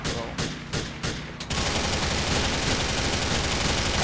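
Gunfire in the video game GTA IV: several separate sharp shots ring out in quick succession, then a sustained burst of rapid automatic fire fills the rest of the moment, loud and close.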